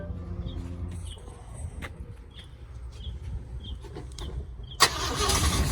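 A 1972 Corvette engine cranks and catches near the end, roaring to life after a quiet stretch with faint birdsong and a few clicks.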